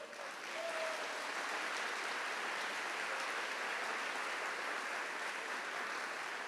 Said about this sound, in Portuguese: Aplaude isso aqui, gente.